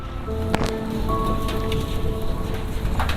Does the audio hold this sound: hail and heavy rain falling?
yes